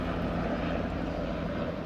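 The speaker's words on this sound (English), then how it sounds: "She's looking at the helicopter." Steady drone of a helicopter overhead, a continuous low engine rumble holding at an even level throughout, with no voices.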